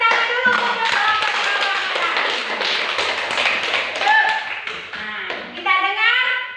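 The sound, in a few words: classroom applause for a presenting group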